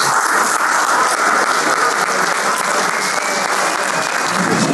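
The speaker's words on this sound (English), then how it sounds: "I would like a very large and loud round of applause for our 3 board members." A large, loud round of applause from the audience at the Hellenic Canadian Board of Trade business awards, honouring three board members: dense, sustained clapping that stays even and close throughout, with no voices on top.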